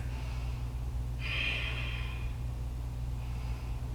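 A single audible breath during a yoga pose, a soft, airy exhale lasting about a second, stands out over a steady low background hum.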